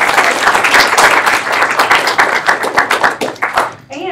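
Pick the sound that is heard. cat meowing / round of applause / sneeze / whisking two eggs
round of applause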